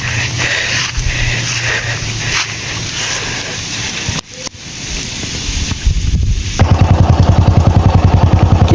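A motorcycle engine runs steadily and loud throughout, its drone cut briefly near the middle before returning as a stronger, rapidly pulsing idle; outdoors on a rural road through banana trees in southern Sukabumi.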